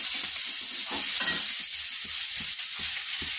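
Bitter gourd and potato fry in a pan with mustard paste, onion paste and chili paste, a steady hiss of sizzling oil broken by regular scraping strokes of a spatula being stirred through.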